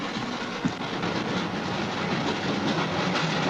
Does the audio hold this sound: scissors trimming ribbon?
no